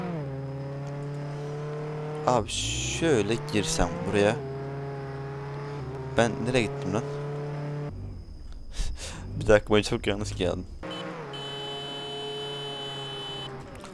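A car engine hums steadily while driving in Roblox Jailbreak, a constant mid-level drone throughout, with someone talking excitedly over it in bursts.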